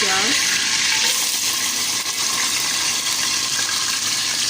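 Onions frying in hot ghee give a dense, continuous close sizzle and bubbling hiss, steady throughout with a brief higher tone at the very start.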